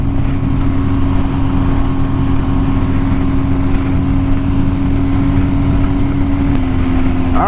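A group of motorcycles rolls out together, engines giving a loud steady low rumble with a sustained hum close by, and no talking over it.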